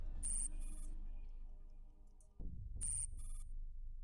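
Telephone ringing in the video game Girls' Frontline, two high electronic ring bursts separated by a gap, with a low droning music bed underneath and no voices.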